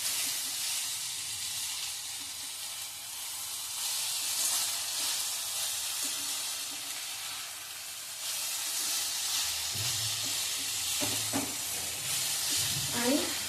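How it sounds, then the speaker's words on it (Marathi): Green beans sauté with a spoonful of sugar in a pan, a soft continuous sizzle and hiss with a few stirring scrapes near the end, fairly quiet and close, no talk. "हे घालून परत एकदा छान परतून घ्यायचं आहे"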